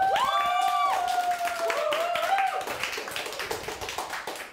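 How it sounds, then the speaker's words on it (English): An audience claps and cheers for a team at a live charity rowing event, with a burst of applause and whoops under a loud, tonal voice at the start. "Yeah, we can cheer for the whole team."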